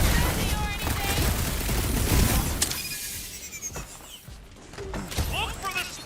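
Blaster fire against cold-rolled iridium clamps in Marvel's Guardians of the Galaxy, with rapid shots and shattering metallic impacts under game dialogue and a speaking voice.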